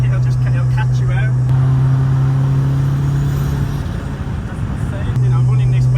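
A 700bhp front-wheel-drive Honda Integra DC5 drives along, its engine holding a steady low drone with a brief dip in the middle, heard from inside the cabin under people talking.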